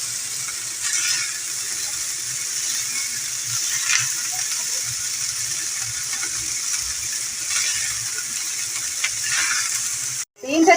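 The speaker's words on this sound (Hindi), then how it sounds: "अब हम डालेंगे वेजिटेबल और हल्के हाथ से इन्हें मिक्स कर लेंगे।" Rice and mixed vegetables stir-fry in a pan for restaurant-style Chinese fried rice, giving a steady close hiss and sizzle with occasional scraping stirs, then a brief clatter at the end.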